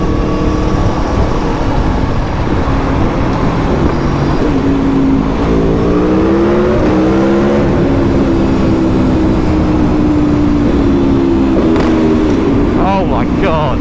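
A 2020 Aprilia V4 Tuono 1100 motorcycle engine revs and accelerates under heavy wind rush, its tone climbing and dipping through several pulls, close and loud.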